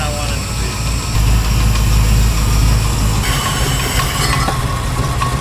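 Engine of a Radcharger vehicle idling loud and close, a steady dense rumble with a rough, uneven edge.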